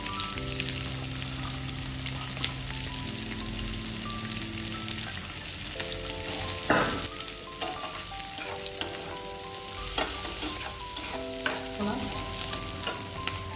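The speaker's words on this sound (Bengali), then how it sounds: "রসুন পেঁয়াজ সব একসঙ্গে দিয়ে দিচ্ছি।" Garlic and onion fry in oil in a pan for a dried fish bharta, giving a dense, even sizzle with occasional stirring clicks and one sharper knock, steady and close with a faint musical hum beneath.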